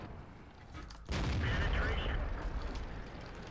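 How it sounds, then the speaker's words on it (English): Heavy artillery shell impact in World of Tanks, a sudden loud broadband blast about a second in, followed by sustained rumbling roar and crackling debris. "And then killed by artillery."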